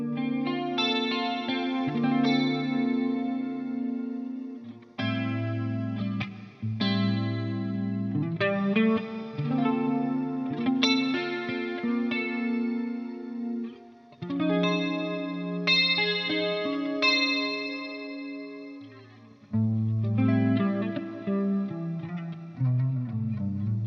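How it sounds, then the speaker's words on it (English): Clean electric guitar through an amp with a chorus pedal, chords and melodic lines ringing with a shimmering, wavering tone, loud and alone for the whole stretch. "Sounds really good with the chorus on"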